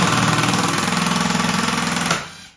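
A power driver spins a screw down into a squeaky wooden floor, a loud, buzzy whir with a rapid rhythmic chatter that holds steady for about two seconds, then winds down and stops.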